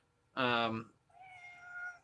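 A cat gives a short, clear meow followed by a softer, thinner second meow, both fairly quiet and close with little else around.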